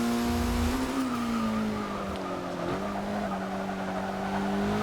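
A 2006 Mitsubishi Lancer Evo IX MR in Forza 6 on a warm-up lap: a loud, steady engine drone that dips slightly and recovers, with a faint tyre squeal early on.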